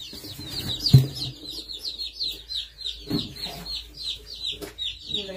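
Newly arrived baby chicks cheep loudly and constantly in a dense, high-pitched chorus close by, with a few handling thumps and bumps underneath.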